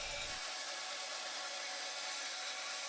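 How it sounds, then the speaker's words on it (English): A bandsaw finishing a resaw cut through a wooden board: a continuous bright hissing buzz of the blade in the wood, steady and close for about three seconds. "With as much resawing as possible done on the table saw, I finished off the cut on my bandsaw."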